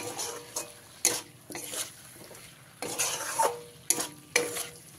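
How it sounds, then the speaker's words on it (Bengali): Fried potatoes being stirred into cooked spice paste in a pan for vegetarian Bengali ghugni, with intermittent scraping strokes and soft sizzling, each stir a short burst over a quiet frying hiss. "এবারে আপনাদের এর মধ্যে দিয়ে দিতে হবে ভেজে রাখা আলু, দিয়ে মশলার সঙ্গে ভালো করে মিশিয়ে নিতে হবে"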